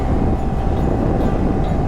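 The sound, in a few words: train passing beside the highway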